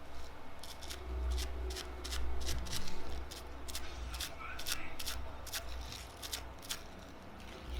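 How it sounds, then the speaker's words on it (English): Plastic wrap being handled while decoupaging a clay pot with napkins, a steady series of crinkling, rustling bursts repeating close up, with a low background hum. "So I'm just using some plastic wrap."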